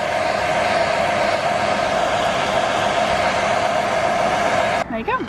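A heat gun blows hot air onto a Mini Cooper R52 badge, a steady, loud whooshing hum that runs unbroken for several seconds, then cuts off as a voice briefly starts talking.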